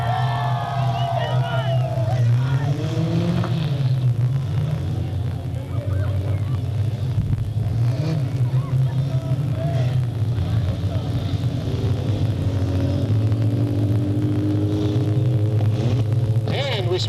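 Sportsman division race cars roaring around the oval at Delta Speedway, a continuous loud engine drone with pitch sweeps as the cars pass, mixed with crowd noise.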